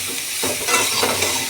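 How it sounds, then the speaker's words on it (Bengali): Eggplant and potato fry in oil with ginger, garlic, onion and a little salt, sizzling close up while being stirred, with scraping bursts of the spoon over a steady crackle. "আমি এটাকে ভেজে নিচ্ছি"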